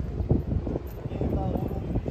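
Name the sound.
wind by the sea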